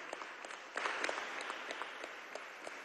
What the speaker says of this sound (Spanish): Un aplauso desde aquí.